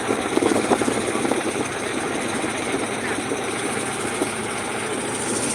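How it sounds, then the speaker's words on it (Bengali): A fast-moving trawler boat's engine drones steadily on the water, a continuous rumbling roar with a slightly louder, rougher stretch at the start before settling into an even, sustained hum. "নৌকা না ট্রলার এত এত দ্রুত স্পিডে আসছে"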